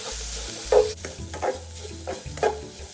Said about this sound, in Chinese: 将所有食材一起炒香